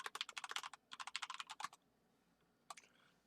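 Quick bursts of clicky keystrokes on a computer keyboard, typed close up during a MapleStory-style game session, two runs of rapid typing followed by a brief pause and a final short flurry, with no voices.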